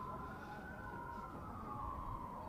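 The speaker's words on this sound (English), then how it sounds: "Set the time limit up there, John, with the sirens" A siren sounds to mark the time limit at a lawn bowls national singles and pairs finals, a steady sustained wail held evenly through the stretch, fairly faint and distant, with no one talking over it.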